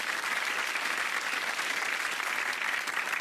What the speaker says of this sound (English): a very big round of applause for our grand finalists